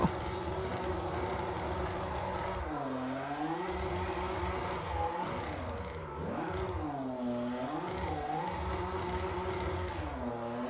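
Car engine in the drifting video game Drift Reign, a steady loud engine drone with pitch swells and dips as the car backs up, alone without talk.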